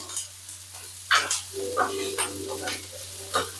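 Onion roasting in a pan for an onion-garlic masala, close stirring scrapes and light sizzling in short bursts over a low background hum, no voices.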